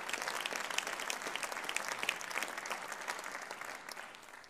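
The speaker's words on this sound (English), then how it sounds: "applause for you" Sustained audience applause at a Tilburg University speech event, a dense even wash of many hands clapping at moderate level, tapering slightly toward the end, with no voices over it.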